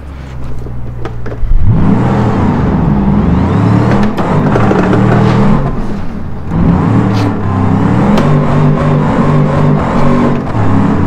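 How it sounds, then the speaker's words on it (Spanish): A Ford Explorer in the BeamNG driving game cranks to life after a quiet moment, then its engine settles into a loud, steady run with repeated revs rising and falling, up close and with no talk. "Voy a arrancar el coche."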